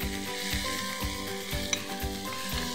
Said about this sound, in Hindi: हल्का हल्का इसको कुक करूंगी